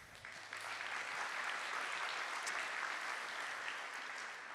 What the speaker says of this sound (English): I'd like to send a big round of applause and a thank you to John Osborne and AdNet Zero